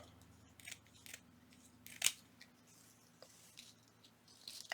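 Scissors cutting paper for a junk journal flower bouquet: several crisp, close snips and rustling cuts, one sharp louder snip near the middle, heard alone against a quiet low hum.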